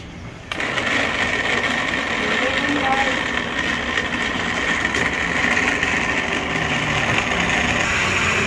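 A blender runs steadily, grinding green vegetables into a shake, a continuous high whirring motor that kicks in after a brief pause and holds at a loud, even level throughout.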